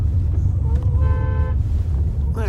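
Paris street traffic of buses, small cars and motorcycles, heard from inside a ride-hail car: a low, steady road rumble with wind buffeting and a short horn toot in the middle.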